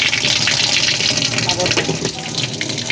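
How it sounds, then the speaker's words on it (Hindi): Tap water gushes and splashes into a Super Asia washing machine, a steady close rushing pour with someone talking over it. "ये पानी गिर रहा है ना"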